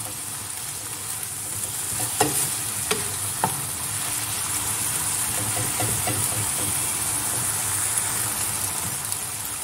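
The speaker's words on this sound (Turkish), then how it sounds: "Artık tenceremizi, tavamızın kapağını açıp karıştırabiliriz." Steady sizzling hiss of spinach frying in an uncovered pan, with a few scraping stirs of a utensil near the start, no voices.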